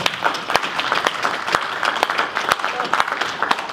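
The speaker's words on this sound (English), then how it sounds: "Can we take a moment and give a round of applause for Jenny and the Minion Queen for planning all this for us?" A convention crowd at MangoCon 2016 gives a round of applause, with sustained clapping and distinct louder claps popping through the steady wash at close range.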